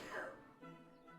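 A single quick sneeze bursts out close and loud at the start, then trails into soft breathy voicing.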